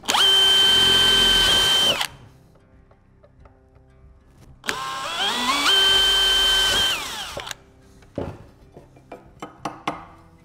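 Power drill boring through an aluminum shelf bracket for a heavy-duty floating shelf: two loud, sustained whining bursts, the second rising as the bit bites, followed by clinks and light metal handling, close and alone.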